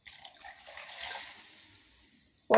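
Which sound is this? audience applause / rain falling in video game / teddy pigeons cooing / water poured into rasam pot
water poured into rasam pot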